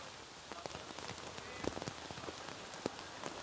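Rain falls steadily and faintly on an outdoor archery range at a World Cup event in Shanghai, a soft continuous hiss broken by scattered individual drop taps.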